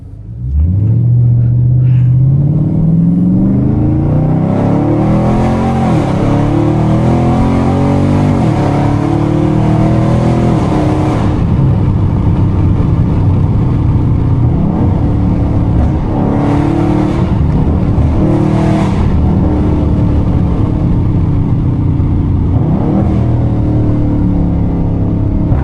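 A tuned, catless 392 Scat Pack roars loudly from inside the car, with repeated rising revs and sharp downshift blips over a constant heavy rumble.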